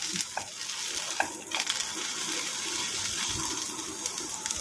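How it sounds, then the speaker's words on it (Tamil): Flowers sautéing in hot ghee in a pan, a steady close sizzle and crackle with occasional stirring scrapes, no voices. "இந்த மாதிரி ஆயிலில் அதாவது நெய்யில் வந்து இந்த மாதிரி நல்லா வதங்கணும்"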